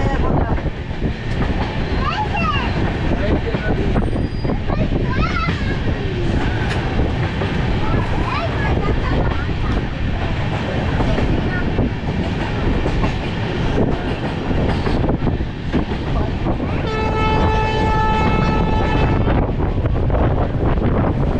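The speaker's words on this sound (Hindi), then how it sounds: "इसलिए हमारी ट्रेन अब लगभग 30-40 के स्पीड पे है और अब थोड़ी देर में हमारा ब्रिज आने वाला है।" West Bengal Sampark Kranti Express (train 12330) rolling slowly at about 30-40 km/h toward the Son river bridge, with a steady rumble, wind buffeting and clickety-clack of the wheels, heard from inside a sleeper coach.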